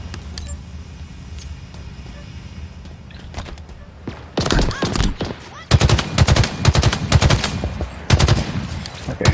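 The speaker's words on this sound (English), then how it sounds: "Okay, who is shooting from over there?" Video game gunfire cracks out in loud rapid bursts after a quieter stretch, with rattling automatic volleys repeating close up.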